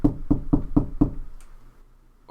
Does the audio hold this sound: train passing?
no